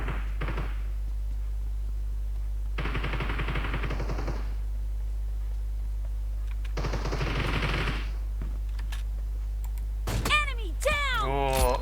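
Gunfire bursts in PUBG Mobile Arena mode, two sustained rapid volleys separated by quieter stretches, ending with sharp chirpy effects and a few louder hits, over a steady low hum.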